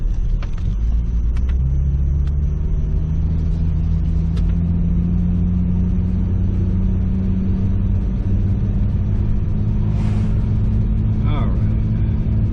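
A 1998 Jeep Cherokee XJ rumbles up a bumpy driveway, its engine droning loud and close with a slowly rising tone and occasional knocks and rattles from the rough ground.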